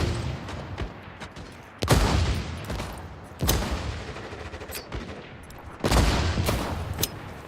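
Bursts of gunfire from a Cold War era multiplayer shooter on a dark map, with several loud volleys of rapid shots separated by quieter pauses and no talking.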